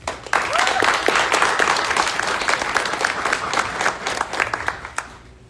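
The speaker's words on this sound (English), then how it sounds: "If we can have a round of applause," Sustained applause from a seated audience at a community know-your-rights event in a plaza hall, many hands clapping steadily for several seconds before tapering off.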